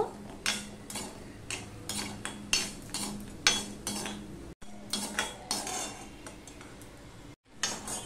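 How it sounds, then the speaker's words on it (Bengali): Lentil dumplings (bori) frying in oil in a pan, with steady rhythmic scraping and clinking of a metal spatula stirring them, close and fairly loud, with two brief cuts to silence. "বড়িগুলো আমি লাল লাল করে ভেজে নেব।"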